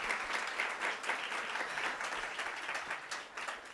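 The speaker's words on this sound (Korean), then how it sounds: "Un aplauso para la directora, por favor." Audience applause for a director at an Atomy business event in Puebla, a steady, dense patter of many hands clapping at moderate distance, sustained evenly throughout with no talk over it.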